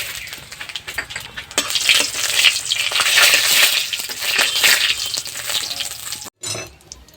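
Bay leaf, dried red chillies and whole cumin crackle and sizzle in hot oil in a kadai, a steady, close, fairly loud frying hiss with bursts of spitting, briefly cutting out near the end before resuming.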